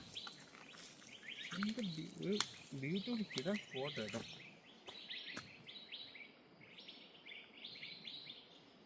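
Repeated chirping bird calls, fairly close, near a bamboo thicket, with a rapid warbling burst early on, then scattered high tweets over a steady background hum.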